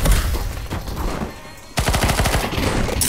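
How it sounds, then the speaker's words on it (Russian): Bomb explosions in CS:GO Danger Zone boom loudly and merge with rapid bursts of gunfire. The noise stays dense and chaotic throughout, with a sharp blast near the middle followed by quick repeated cracks. "Ой, тут бомба взрывается."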